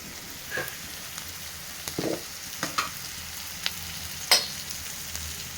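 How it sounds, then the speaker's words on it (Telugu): Ginger garlic paste fries in a pan with turmeric, a continuous close sizzle broken by a few sharper crackles and stirring scrapes, with no one speaking. "అల్లం ఎల్లిగడ్డ ఇది పచ్చివాసన పోయేంత వరకు ఫ్రై చేసుకున్నాం"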